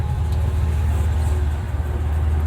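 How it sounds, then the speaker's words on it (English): A manual 1993 Ford F-150 pickup with an inline-six engine idles with a deep, steady exhaust rumble, close and continuous, with no pauses. "listen to that exhaust. It doesn't sound bad."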